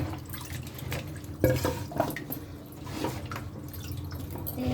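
Tomatoes washed under running water, with close splashing and dripping bursts and a sharper splash partway through, no talk.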